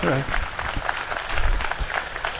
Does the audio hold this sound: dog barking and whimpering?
no